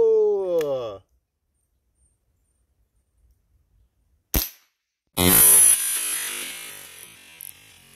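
A Rossi R8 air rifle fires a single sharp crack, followed by a burst of loud noise, with a voice heard briefly before it and long stretches of silence.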